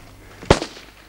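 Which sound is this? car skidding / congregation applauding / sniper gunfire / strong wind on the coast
sniper gunfire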